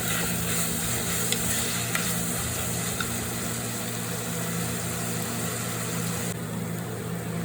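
Squid for kanava thoran sizzling steadily in a pan with coconut pieces and spice paste, a dense continuous fry hiss with faint stirring clicks, close and unbroken, no talking.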